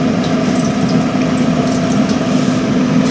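Hot water pours steadily into a pan set inside a tabletop pellet grill, a continuous close splashing gush with no talk.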